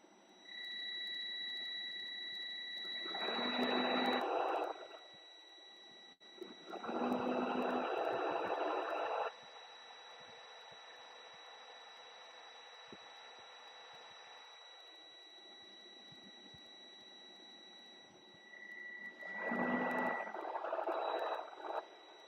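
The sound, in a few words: truck warning buzzer beeping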